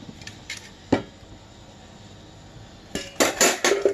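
A bowl or pan is set down on a kitchen stove while tomato dal is being made, giving a sharp metallic clank followed by a short flurry of clinks. The sounds are close and come in quiet surroundings.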